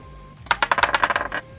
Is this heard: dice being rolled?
yes